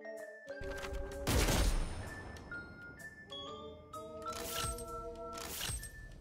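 Express Shot fires in the video game Deadlock: a few sharp gunshot bursts ring out amid chiming, tonal game effects and clinks, loud and close, spread across several seconds with no voice.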